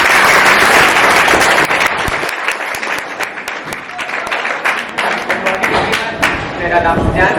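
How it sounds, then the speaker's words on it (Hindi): Children and guests clapping for their teachers at a school Teacher's Day celebration, a loud burst of crowd applause that thins into scattered individual claps and thumps, with voices mixed in. "तो एक बार सभी बच्चे हमारे टीचर्स के लिए जोड़ा ताली।"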